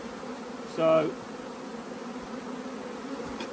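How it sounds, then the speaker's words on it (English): Low, steady hum of honey bees buzzing around an active hive on a warm, cloudy day while queen cells are being prepared. The buzzing runs throughout, with a brief spoken word near the start. "The bees are all active, but they're not giving us grief"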